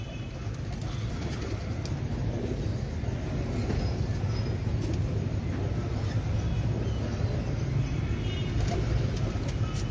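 Domestic breeder pigeons on a rooftop coo in low, soft, repeated murmurs at close range. The cooing sits under a steady rumbling background for the full length, with occasional faint higher clicks.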